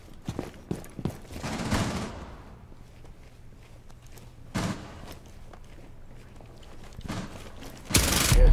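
Rainbow Six Siege gunfire comes in a few sharp, scattered bursts, mixed with footstep-like shuffles and mechanical clatter, with a louder volley at the end.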